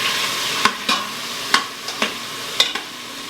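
Beef browns in an Instant Pot with a low background sizzle, broken by several sharp utensil scrapes and taps against the pot at irregular intervals.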